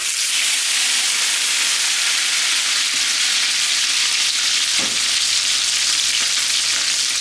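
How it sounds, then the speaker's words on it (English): Potatoes are dropped into hot oil for roasting and crackle in a loud, continuous sizzle that fills the whole stretch, with a brief knock partway through and no voices. "here's the other hot oil. Again, same potatoes, in they go."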